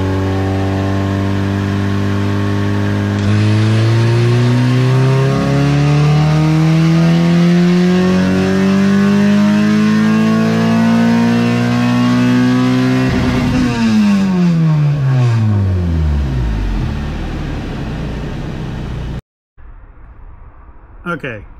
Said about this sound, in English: It looks like we can try a baseline pull.